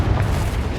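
A Confringo fire spell bursts in the Hogwarts Legacy video game, a single short, deep, rumbling boom that fills the moment without any voices.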